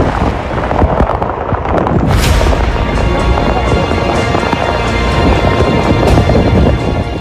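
Heavy rain pours steadily during a storm over flooded streets in Gujarat, a loud dense hiss with thunder rumbling underneath throughout, and no voices over it.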